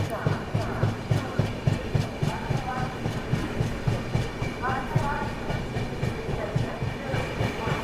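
Heard from on board, the Dibrugarh Rajdhani Express runs at a fair speed through Ghaziabad with a steady, regular clickety-clack of wheels over rail joints above a constant rolling rumble.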